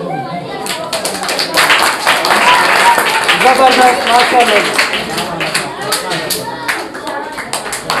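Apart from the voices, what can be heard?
applause at school gift distribution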